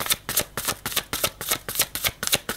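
Tarot-style cards are shuffled close up in quick, even riffling bursts, about a dozen crisp flutters in a steady rhythm with no talk.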